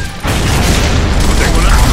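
A grenade explosion in Gears of War on Xbox 360: a loud, booming blast kicks in after a brief lull and rolls on with dense rumble and debris for the rest of the stretch, under battle noise.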